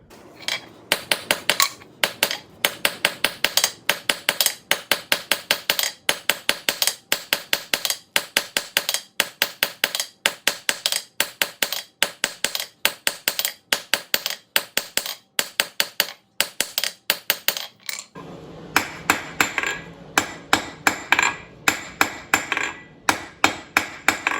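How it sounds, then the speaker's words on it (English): A hammer strikes a length of 3/8 inch round steel on an anvil, forging a taper and hook for a dinner triangle, with rapid, evenly spaced ringing blows close by that continue without a break. "we're going to get this piece of 3/8 round, put a little taper and a hook on it"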